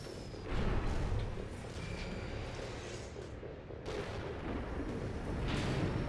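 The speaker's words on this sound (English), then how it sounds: "I think I may have actually found my favorite non-automatic weapon in this game with these rifles." Rifle gunfire in the mech game Armored Core 6, heavy booming shots and thuds repeating over a dense, rumbling battle soundscape, steady and loud throughout without talk.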